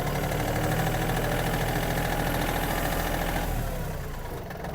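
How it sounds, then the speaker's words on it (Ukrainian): A Yanmar AF-26 Japanese mini tractor engine runs steadily and loud in first gear as the tractor eases off, its rumble easing slightly near the end. "Включив першу, трактор собі плавно рушив."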